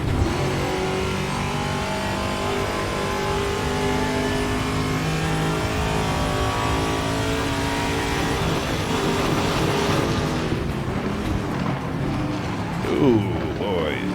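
A TA2 race car, a Mustang, screams through gears in a racing video game, a loud continuous engine whine rising and falling with shifts while another car runs close ahead; someone talks over it.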